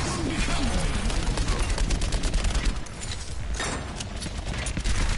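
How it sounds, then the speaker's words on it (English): Gunfire in an Overwatch match, continuous rapid shots mixed with ability and game effects, loud and dense throughout. "I'm shooting."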